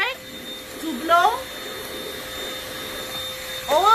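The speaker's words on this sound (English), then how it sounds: "So, I use this little vacuum, the Orec, to blow" A small Orec vacuum used as a blower sends a steady, whooshing stream of air around an Amway Clear Trak Workhorse cyclonic upright vacuum. The motor holds a constant tone close by, with brief rising pitch sweeps as the airflow shifts.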